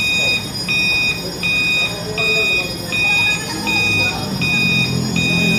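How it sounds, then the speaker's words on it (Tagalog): Building fire alarm set off by an earthquake, beeping in a steady repeating pattern of about eight short pulses, with workers evacuating and people talking in the background. "Ayan, nag-activate na ang fire alarm,"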